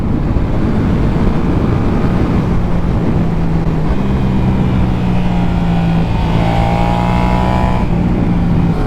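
A Yamaha MT-07 motorcycle engine drones loudly throughout a ride on a winding road, under constant wind roar, with the engine pitch shifting and rising as the bike accelerates.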